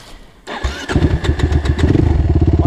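A Suzuki 450 enduro motorcycle fires up on its electric starter out by a creek, a brief crank catching into a loud, close, rapidly pulsing idle that thumps steadily with no talking.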